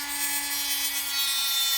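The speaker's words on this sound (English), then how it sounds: "Going to use a Dremel for this." Dremel rotary tool with a cutting wheel slicing into the plastic casing of a Pioneer CT-W604RS cassette deck, giving a steady close-up high-pitched grinding whine with a constant motor tone and no pauses.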